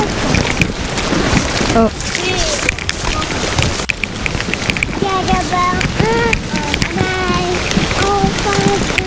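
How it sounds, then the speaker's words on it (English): River rapids rush on a West Virginia hike as a loud, continuous broadband roar of churning water, close by, with people talking over it in bursts. "Oh, those are rapids, buddy."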